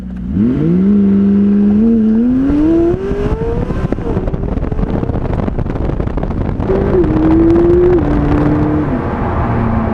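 McLaren 675LT Spider sports car accelerating hard, its engine climbing through gears with loud rising revs, a brief shift dip, then a further pull and settle, heavy wind rush throughout.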